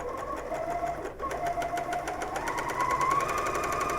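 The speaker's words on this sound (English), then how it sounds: "lower our foot, and serge away on the first seam" A serger sews the first quarter-inch seam joining batik quilt strips. Its motor whirs fast, steady and loud up close for the whole stretch, and the pitch rises slightly near the end.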